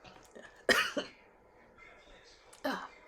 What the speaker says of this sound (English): I almost made it the whole week without having to have a coughing fit